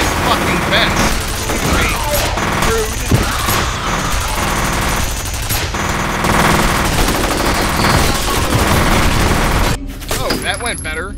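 Sustained rapid gunfire and automatic weapon bursts from the shooter video game F.E.A.R., loud and dense throughout, with booming impacts layered over game audio and a sudden drop near the end.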